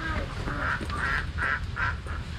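Ducks on a rural Vietnamese farm quack in a repeated series of four or five nasal calls, fairly near, over steady outdoor noise.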